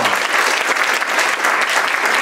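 Sustained audience applause at a theatre show in Chieri fills the space, dense and steady clapping from a crowd, loud and close throughout.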